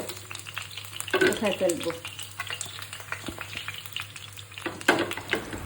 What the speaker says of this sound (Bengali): চুলাটা কমিয়ে সাইডগুলো একটু একটু ভাজবো, নাহলে পুড়ে যাবে।